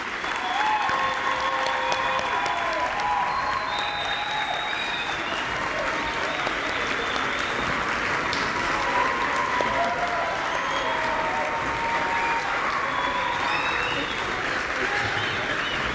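A large audience at a UTSA letter of intent signing ceremony gives OJ Ruiz a big, sustained round of applause, dense clapping with scattered cheers holding steady for the whole stretch.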